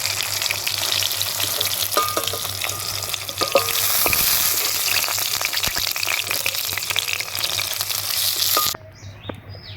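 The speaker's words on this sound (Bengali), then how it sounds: "এক এক করে সব সবজিগুলো ভেজে নেব।" Vegetables frying in hot oil for a Bengali rohu fish sour curry, a steady close sizzle with stirring clatter and bubbling, cutting off abruptly near the end.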